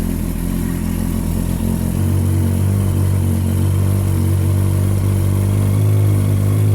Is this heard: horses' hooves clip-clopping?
no